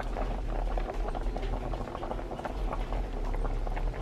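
A pot of chicken, potatoes and corn at a steady rolling boil, bubbling and churning continuously and fairly loud up close, with no voices over it.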